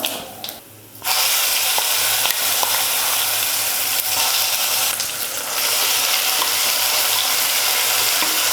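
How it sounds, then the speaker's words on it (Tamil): Ground spinach paste frying in hot oil in a pan gives a loud, steady, close sizzle that starts after about a second of quieter sound and continues without a break, with no talking. "இப்போ அரைச்சி வச்சுருக்கிற கீரை விழுது சேர்த்துக்கலாம்."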